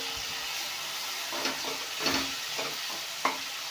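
Deghi chili powder and turmeric being fried in a pan for paneer bhurji, a steady close sizzle with a few louder stirring scrapes and spatters, no voices.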